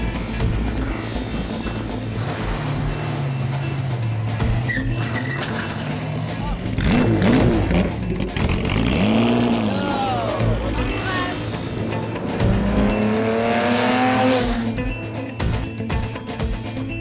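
A 2012 Morgan three-wheeler's engine drones steadily, rising and revving as it drives past at a classic car rally in Morocco, with talk over it and a background of crowd noise.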